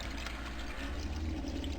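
Six cups of water pour steadily into a Dutch oven for Boston baked beans, a continuous close, moderately loud splashing gush lasting about two seconds with no talking.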